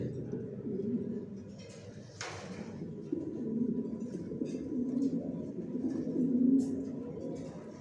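Johnson line pigeons cooing in a new loft, repeated low throaty coos rising and falling over several seconds, with a brief rustle partway through.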